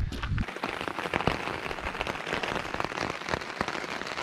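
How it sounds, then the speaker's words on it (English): Heavy, steady rain pattering on a tarp shelter at a wild camp in the Lake District at night, a dense continuous drumming with scattered louder drips and no voices. "consistently heavy rain"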